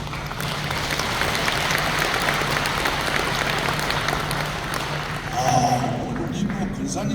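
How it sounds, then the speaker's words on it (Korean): Church congregation applauding an elder who is giving a testimony, a steady dense wash of clapping that fills the whole stretch at even loudness, with a faint low hum beneath and a brief swell near the end. "우리 뭐 근사님들 우리 선후배 장로님 박수 치니까"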